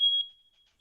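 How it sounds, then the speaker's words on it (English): A single shrill electronic smoke alarm chirp, loud at first and trailing off quickly into near silence. "Yep, that's my smoke alarm."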